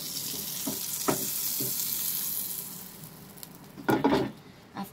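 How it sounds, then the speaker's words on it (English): Butter melting in a heated pan, a soft steady sizzle with a few small clicks and scrapes of spreading, growing briefly louder near the end. "I am heating the pan and I will add little butter."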